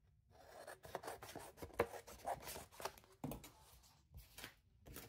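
Paper craft pieces for Christmas ephemera are trimmed close to the mic in a quiet room, giving irregular soft scraping and rasping strokes with short pauses and no voices.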